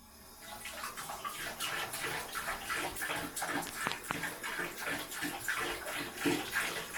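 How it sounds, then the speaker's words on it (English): Water sloshing and lapping in a bathtub as a pet drinks from it, a continuous splashy wash of sound with irregular close plops and trickles, no talking. "he drinks straight from the bathtub"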